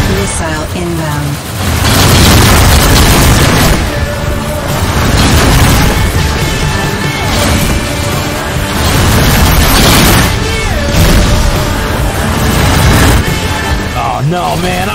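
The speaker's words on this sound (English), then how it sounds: "Missile inbound." Missile explosions in the space combat game Rebel Galaxy Outlaw, repeated loud booms rolling over a dense, continuous layer of game music and effects, with spoken voices mixed in.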